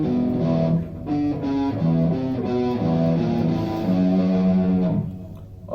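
Distorted electric guitar on a six-string plays a fast riff from a song, with a run of quick, choppy palm-muted notes shifting in pitch, close and loud with no talking.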